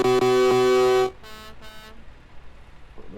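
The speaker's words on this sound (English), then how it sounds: "Them horns are pretty loud." Truck horns blare in a trucking video game: one loud sustained horn blast, then two shorter quieter toots, fading into low engine rumble.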